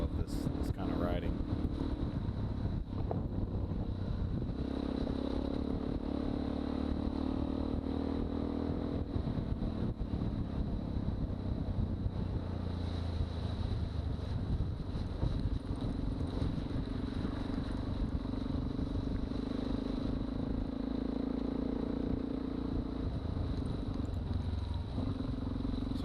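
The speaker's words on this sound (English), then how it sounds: "you hear me on the DRZ 400 with full knobbies just giving it hell" A Suzuki DRZ 400 dual sport motorcycle on full knobby tires is ridden hard off-road, its engine droning steadily and loudly throughout under heavy wind rush.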